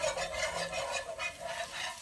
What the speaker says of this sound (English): we're going to stir this around, and we're going to cook this butter until it becomes nice and golden